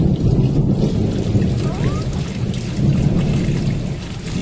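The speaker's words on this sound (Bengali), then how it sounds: "বুঝতে পারবে কত জোরে বৃষ্টিটা হচ্ছে" Heavy rain pouring steadily with a deep low rumble of thunder rolling underneath, a dense continuous roar close by, no voices.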